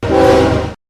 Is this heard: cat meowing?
no